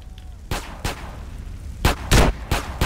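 Rifle gunfire in GTA San Andreas: about six sharp, loud shots at irregular intervals, two early single cracks followed by a tighter cluster near the end, with no talking over them.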